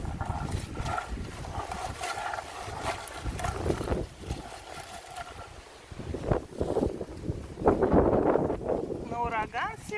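Strong, gusty wind sweeps through a forest during a storm while berries are picked with a hand harvester, roaring bursts buffeting the microphone, rising and falling, with a voice speaking intermittently.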